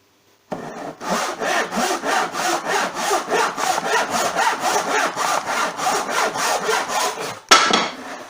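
A hand saw cuts through a wooden guitar body blank with a steady back-and-forth rhythm of rasping strokes, loud and close, running continuously for several seconds before a final harder stroke at the end.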